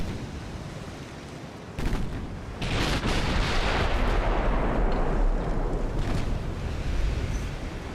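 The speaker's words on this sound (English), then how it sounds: "We should be accurate enough now to go ahead and open up full broadsides." A naval battle in a war video game fires full cannon broadsides. One sharp boom is followed by a heavy, sustained rumble of massed gunfire that swells loudly and then slowly fades into a roar. Nobody speaks.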